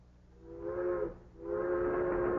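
A train sounds its whistle in two long, steady, fairly loud blasts separated by a short gap, with a low rumble of the moving train beneath and no speech.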